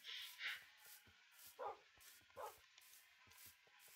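Pet dogs in Minecraft Hexxit bark and yip in short, faint, evenly spaced bursts over a quiet background, several yelps in a few seconds with no talk.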